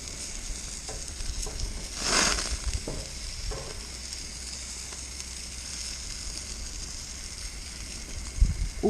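Garlic roasting in a pan gives a steady soft sizzle and crackle, with a brief louder hiss burst early on and a few light clanks, no talk.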